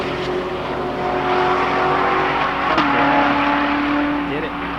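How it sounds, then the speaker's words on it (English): A 2019 Chevrolet Corvette ZR1 with the ZTK package runs on a race track, its engine a loud steady roar with a gear shift midway, while people talk in the background. "I'm pretty sure a new ZR1 just rolled on track"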